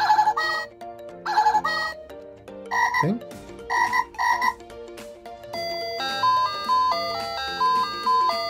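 A cheap Chinese alarm clock plays a bright, jingly electronic alarm melody in short repeated bursts, then shifts into a stepping tune, with a brief word spoken in between.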